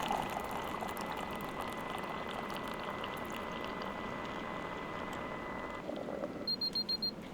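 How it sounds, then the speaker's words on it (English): A Ninja DualBrew Pro coffee maker hisses and bubbles steadily while brewing tea, then gives a run of short, high electronic beeps near the end as brewing finishes. "when it's done, it beeps so that you know"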